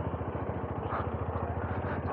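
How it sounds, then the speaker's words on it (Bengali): Motorcycle engine idling at a monastery stop near Pelling, Sikkim, a steady close chugging pulse with no talk. "এখানে বাইকটাকে পার্ক করে দেবো।"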